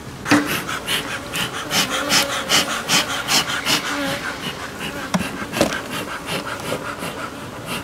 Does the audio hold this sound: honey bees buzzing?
yes